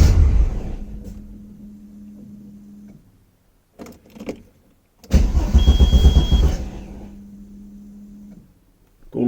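An Audi S2 with running problems is cranked and started: a steady starter whine, a pause with brief clunks, then the engine catches with a loud burst and a high whine before settling and cutting out. No talking.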